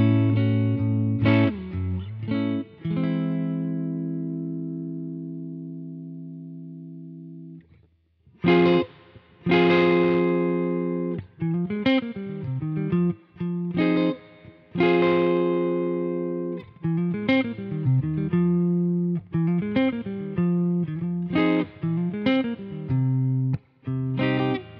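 An electric guitar played through a Fender Hot Rod Deluxe amp, close-miked with a dynamic 57 microphone, rings out with a mid-heavy, punchy tone: a sustained held chord, then a run of clipped, rhythmic riffs and notes with brief gaps, and no talk.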